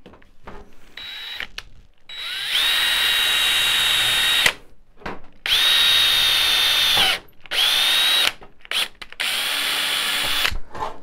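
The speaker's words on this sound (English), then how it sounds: "And we'll drill the hole." Power drill boring a hole during a laser power supply replacement, loud bursts of high whining drilling that start and stop repeatedly, with short pauses between runs and no talk.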